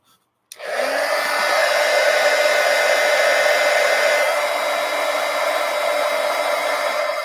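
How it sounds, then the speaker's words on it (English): A heat gun blows hot air over freshly applied art markers, a steady loud whooshing roar that starts abruptly after a brief silence and holds evenly to the end. "let me hit them with the heat gun."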